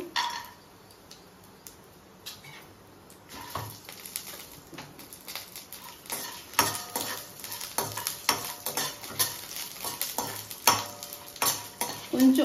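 Dried red chilies and peanuts fry in hot oil for a stuffed brinjal curry, a soft sizzle under repeated spatula scrapes and taps against the pan that grow busier and louder over time.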